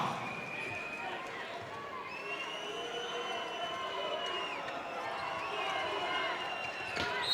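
Russian handball fans cheer in an arena crowd at a European championship match against Spain, a steady broad roar under continuous commentary, with a bouncing ball and squeaking shoes faintly through it.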